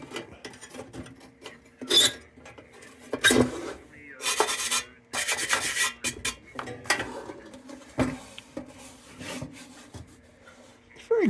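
A brass wire brush scrubs oxidation off an old Warren Sta-Lit Big Special 451 brass lantern, giving bursts of harsh, close scratching strokes in uneven rhythm with brief pauses between passes.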